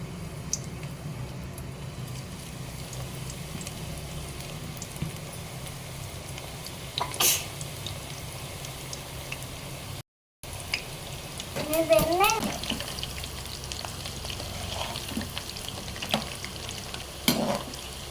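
Onion pakoda batter frying in hot oil gives a steady low sizzle and bubbling throughout, with a few clinks and scraping stirs near the middle and a brief gap in the sound.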